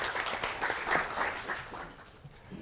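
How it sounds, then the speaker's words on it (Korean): Audience at a lecture hall talk on Korean entrepreneurs claps in a soft, fairly distant burst that gradually dies away toward the end. "박수 한번 다시 한번 해주시죠"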